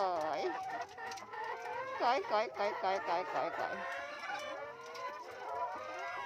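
Chickens on a farm cluck and squawk in busy, overlapping bursts while being fed, close by, as a voice repeatedly calls to them throughout.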